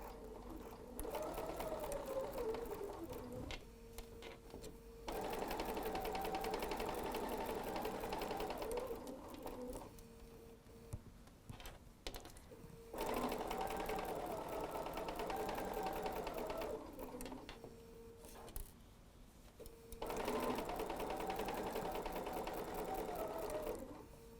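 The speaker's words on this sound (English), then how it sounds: "here at the sewing machine right now" Rapid mechanical whir of a sewing machine stitching in several bursts a few seconds long, separated by short pauses, close and steady.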